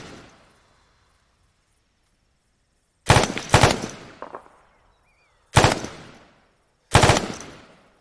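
Gunfire in the Arma 3 military shooter game: after a few quiet seconds, several loud, close bursts of automatic fire ring out, each with a sharp attack and a fading echo, separated by brief pauses.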